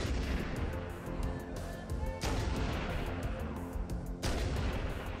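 Video game gunfire from Halo Anniversary Edition fills the clip with loud, dense bursts of shots and blasts, running continuously with sharp hits near 2.2 and 4.3 seconds.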